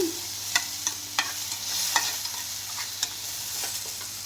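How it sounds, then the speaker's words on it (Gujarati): Tomatoes sautéing in a pan for chutney, a steady close sizzle broken by sharp clicks of stirring at irregular intervals, with no talking. "ટમેટાને આપણે આવી રીતે આમ સાતળશું અને ટમેટાં આપણા સોફ્ટ થાય ત્યાં સુધી આપણે કૂક કરવાનું છે"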